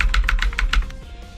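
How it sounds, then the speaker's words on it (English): Computer keyboard keys are tapped in a quick burst of about six crisp, close clicks, then fall silent. "This is keyboard."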